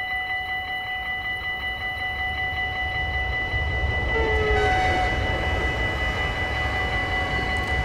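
A simulated train rolls past in Train Simulator 2015 on the Ede–Wageningen route, a steady loud rumble with sustained whining tones that swell slightly midway, continuous throughout with no talking.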